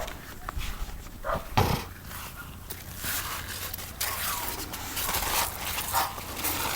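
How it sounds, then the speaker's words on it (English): Several dogs whimper and scrape restlessly indoors, eager to get outside during a tropical rainstorm, with faint whines and scratching scattered through a steady rain-like background noise. "all the doggies want to get out."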